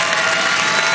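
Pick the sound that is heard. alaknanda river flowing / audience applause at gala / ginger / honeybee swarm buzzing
audience applause at gala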